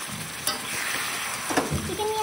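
Spice masala with turmeric powder and salt frying in a pan, giving a steady close sizzle broken by scraping stirs of a spoon, with no talking.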